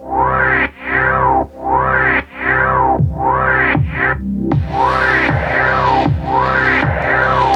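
A heavy, distorted bass tone swells up and cuts off in repeating bursts, looping with a backward, sucking rise, growing noisier and more smeared toward the end.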